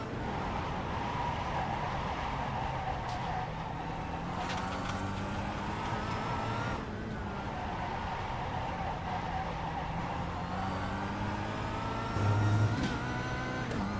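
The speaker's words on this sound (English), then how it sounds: "The tire screeching noises?" A car engine drones and shifts pitch with faint tire-screeching tones, a longer whine near the end, under steady road noise.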